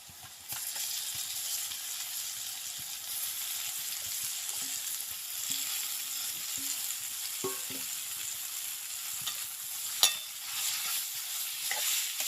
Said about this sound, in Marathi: या प्रकारे मसाले घातल्यानंतर आपल्याला भाजी ढवळून घ्यायची, परतून घ्यायची.